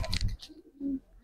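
A racer pigeon coos, low soft throaty notes near the mic after a brief burst of rustling or flapping, with the call rising around the one-second mark.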